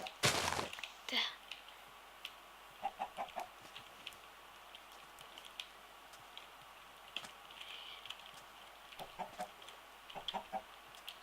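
Chickens in a survival video game clucking in short scattered bursts, several separate calls over quiet background, fairly close, with a loud flurry at the start.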